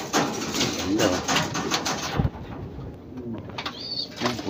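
Pigeons cooing in a pigeon loft, several birds giving close, throaty repeated coos and soft calls amid shuffling, with people talking over them throughout.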